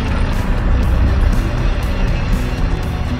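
Steady, loud engine and road rumble from inside a local passenger vehicle travelling on the Jammu–Srinagar national highway through mountain terrain, continuous with no voices.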